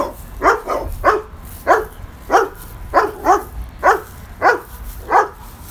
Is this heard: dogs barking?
yes